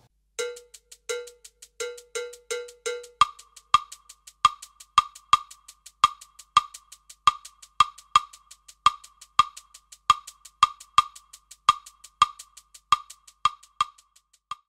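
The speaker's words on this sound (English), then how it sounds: "Let's use the top method to learn 3-2 rumba clave" Rumba clave pattern in 3-2 form played slowly on a bright, cowbell-like percussion tone, steady sharp strokes repeating alone and close up, with a lower tone in the opening bars.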